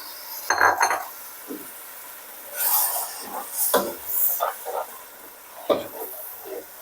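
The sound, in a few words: sautéing chopped tomatoes in a pan for ridge gourd curry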